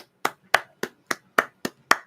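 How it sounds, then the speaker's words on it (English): Hand clapping in a slow, even rhythm: seven sharp, close claps about a quarter second apart, crisp and isolated against silence. "Let's all give her a clap."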